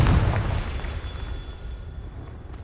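A Confringo fire spell blast in Hogwarts Legacy, a single loud booming explosion that rumbles and fades over a couple of seconds amid game ambience.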